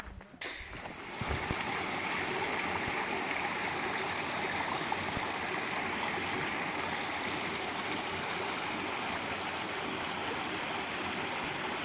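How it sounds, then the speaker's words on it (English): Small mountain stream flowing beside a hiking trail, a steady broadband rush of water that fills the clip from about a second in, close and continuous, with no talk over it. "So we just crossed a little water over here. Nice little stream, pretty cool."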